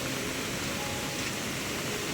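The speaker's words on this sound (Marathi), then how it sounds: "कसला चाललाय बघा फोर्सने पाणी एकदम" Floodwater from a river swollen by heavy monsoon rain in a Konkan village surges over a submerged bridge, a steady dense roar of rushing water with no voices.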